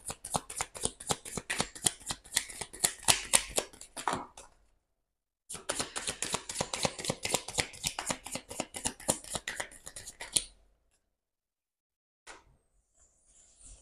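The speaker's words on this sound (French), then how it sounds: "On va prendre 3 cartes avec l'oracle Béline" Oracle cards being shuffled in two long bursts of rapid riffling and flicking, loud and close, separated by a short pause and followed by a few faint card taps.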